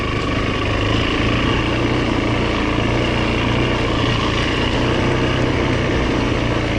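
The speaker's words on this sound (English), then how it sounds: "if I play with the clutch, it idles down." A 2008 Yamaha WR450F dirt bike engine idles steadily up close, with a rough, constant rumble and no voices over it.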